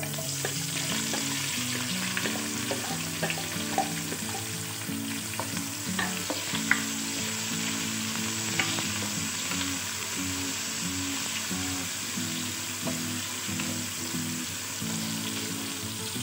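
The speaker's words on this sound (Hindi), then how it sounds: "हुण मैं इहदे विच प्याज पा दांगी।" Chopped onion sizzles and fries steadily in a pan of hot oil with browned cumin seeds, a dense continuous hiss with occasional pops and stirring clatter throughout, close and alone with no talk.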